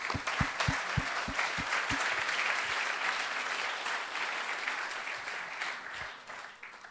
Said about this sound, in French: On les applaudit, hein.